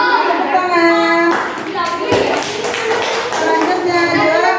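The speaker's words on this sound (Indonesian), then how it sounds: "tepuk tangan" Children in a sixth-grade classroom burst into a short round of clapping during a medal award, the applause starting sharply partway through and mixing with kids' chatter and talk.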